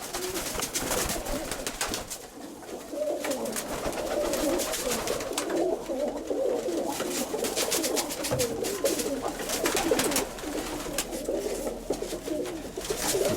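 A steady chorus of many pigeons in a loft coos continuously and close up, the overlapping throaty calls forming a dense, unbroken murmur.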